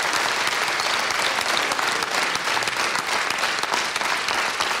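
An audience applauds in a theatre hall, a full and sustained round of clapping that stays loud and even for about five seconds with no voices over it.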